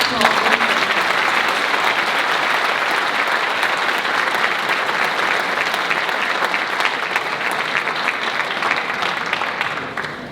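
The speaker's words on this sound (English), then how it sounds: "One more round of applause." A ceremony audience at a senior awards event applauds in a loud, sustained roar of clapping that fills the hall for about ten seconds, with a voice faintly audible beneath it.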